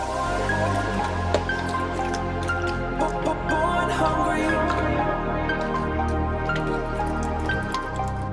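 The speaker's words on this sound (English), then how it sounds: "Then we will give it a quick rinse from fresh water." Fresh water runs steadily over salt-and-vinegar marinated chicken drumsticks during a rinse, a continuous close trickle and splash with dripping throughout.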